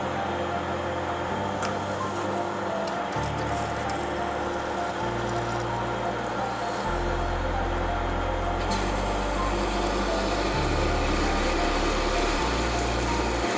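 A lathe running at 460 RPM with coolant drives a parting tool into a 27 mm bar, producing a continuous close machine whir and cutting hum that shifts pitch in steps as the manual feed advances, without speech.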